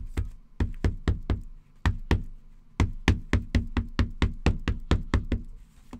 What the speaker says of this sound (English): I'm going to go ahead and stamp using some sweet blue ink